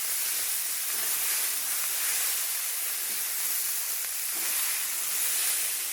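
Chickpea ghugni masala sautéing in a pan, giving a steady, even sizzling hiss that runs unbroken throughout with no voices.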